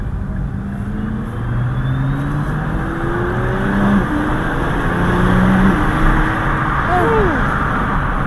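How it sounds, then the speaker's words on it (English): A GT-R sports car's V6 engine with DCT gearbox and stock exhaust drones and revs with a rising exhaust note, heard loud from close by on city streets in Kenya, with a steady road rumble underneath. "Stock exhaust. Yeah, it's loud, eh? Exhaust. So this is a V6 engine with a DCT gearbox."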